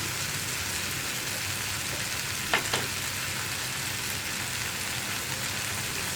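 Egg roast masala sizzles steadily in a pan while being stirred and mixed, with a brief spoon scrape near the middle standing out from the constant frying hiss. No one speaks.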